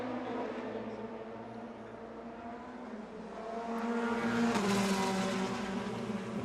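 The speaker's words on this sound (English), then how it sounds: "The car's curb hopping as here is the 95 car" A race car in the FIA WEC 2020 Lone Star Le Mans, driving into the pits: a steady engine drone at moderate distance that swells louder near the end, with a brief sharp burst of noise.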